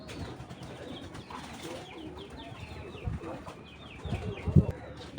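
Pigeons kept for sale coo softly in a busy loft amid faint rustling and wing flaps, with a sharper flutter near the end and a voice talking in the background.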